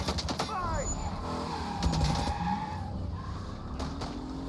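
Cars skidding and engines roaring in a cutscene of the video game Mafia, with short tire squeals and mechanical clatter under overlapping talk.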